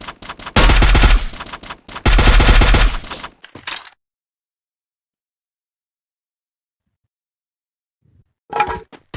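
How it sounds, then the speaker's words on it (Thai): Gunfire in the video game Free Fire: two loud, rapid automatic bursts up close, followed by a few scattered shots, a long silence and a faint short burst at the end. "ยิงกันด้วย"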